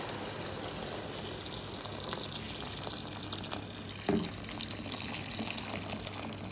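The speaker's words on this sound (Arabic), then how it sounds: "هنزل بقى بالميه دي مغليه" Boiling water pours steadily into a pot of seared meat, a continuous rushing gush with a brief clunk partway through, no one speaking.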